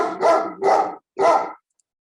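A dog barks three times in quick succession, loud and close, with a short pause before the third bark and silence afterward.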